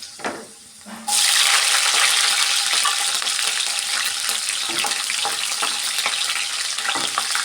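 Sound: frying lentils and green chillies in a pan

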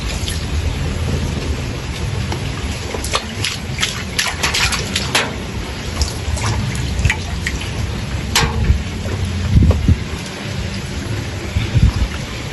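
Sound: heavy rain

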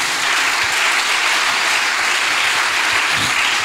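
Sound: church congregation clapping

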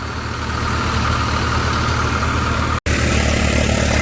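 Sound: tractor engine running in paddy field

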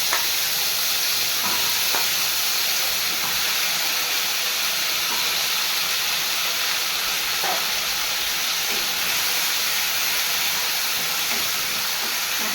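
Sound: taro frying in oil with salt and turmeric

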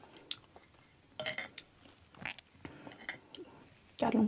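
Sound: crunchy berries being bitten and chewed

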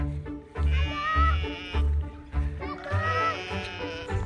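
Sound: flock of sheep bleating

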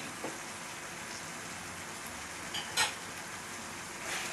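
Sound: tomato sauce simmering in a pan for Filipino sweet spaghetti

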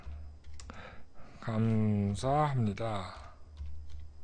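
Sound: typing a Facebook message on a computer keyboard

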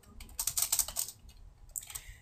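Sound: typing code on a computer keyboard

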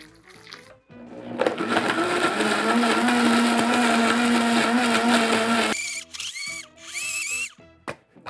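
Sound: blender grinding strawberries with soju

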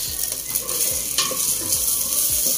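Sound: bacon frying in a pan

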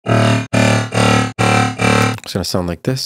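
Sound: metallic dubstep synth patch playing without group processing

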